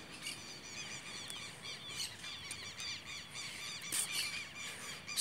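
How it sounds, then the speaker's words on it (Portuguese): Southern lapwings and parakeets call from trees by a lake, a steady mix of faint high squeals, chirps and squawks overlapping at a distance with no voices. "Os quero-quero cantando lá em cima da Lagoa Maior, todo feliz. Os periquitos ali nas árvores, cantando, todo feliz."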